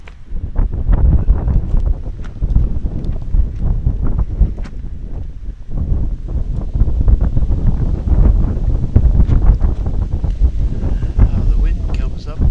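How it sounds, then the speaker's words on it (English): Strong wind gusts buffet the microphone outdoors at a lawn bowls match, a steady loud roaring rumble with fluctuating gusts throughout and no clear speech over it. "The wind comes up."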